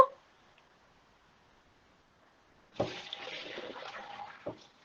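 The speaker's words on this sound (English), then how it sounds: "I'm going to drain it here first and then dip it into the cold water." Hot water from cooked udon noodles poured out into a kitchen sink, a near rushing splash starting abruptly after a silent stretch and lasting about two seconds.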